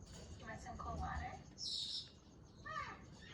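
An African Ringneck parrot gives a few bright, high chirps and short whistles at close range over a soft indoor background.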